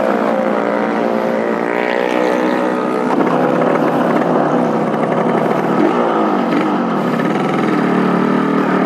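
A Yamaha RX-King two-stroke motorcycle engine runs loud and steady while riding, its buzzing drone rising and falling slightly with throttle and holding constant throughout with no talk.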